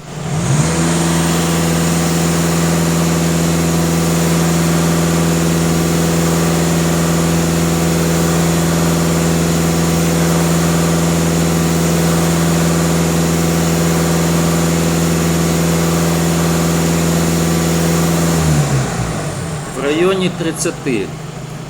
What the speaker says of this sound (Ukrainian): Даю газ пол 2500 обертів.